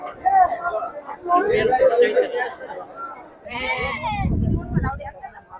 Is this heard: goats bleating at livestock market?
yes